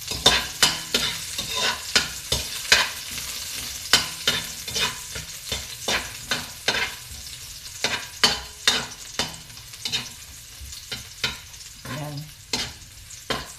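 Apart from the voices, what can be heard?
garlic sautéing in cooking oil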